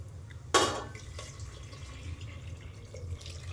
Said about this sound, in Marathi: गरम पाणी टाकणार.